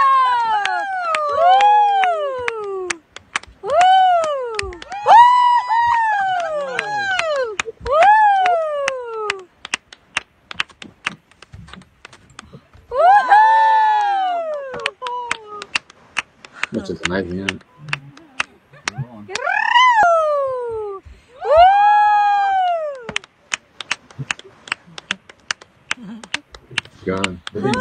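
Recorded whale songs play as long rising and falling tonal calls in repeated phrases, with clicks and gaps between, while people talk over them.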